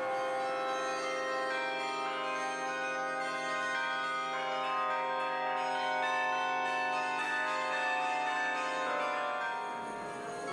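Carillon bells ring out at the Peter and Paul Fortress, a sustained, richly layered peal of many overlapping tones that fills the space and slowly fades at the end.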